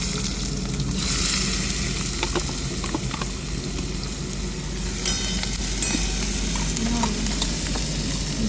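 Chopped onion hits hot oil already tempered with mustard and cumin seeds, setting off a loud, steady sizzle. Crackles and pops run throughout, with occasional stirring clatter close by.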